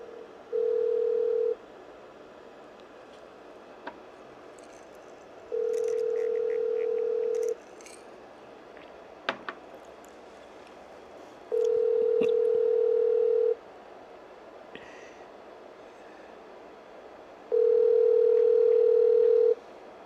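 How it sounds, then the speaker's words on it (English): Outgoing phone call ringing unanswered: four evenly spaced ringback tones about two seconds long, separated by quiet gaps of roughly four seconds, with faint clicks in between. "Your call has been forwarded to voicemail."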